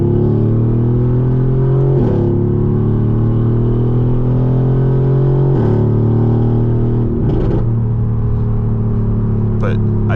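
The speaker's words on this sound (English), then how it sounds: "I just love the way the car sounds." A Mercedes-AMG GT R engine drones loudly from inside the cabin while driving, with rising pitch through the gears and brief dips at each shift, and a person talks over it.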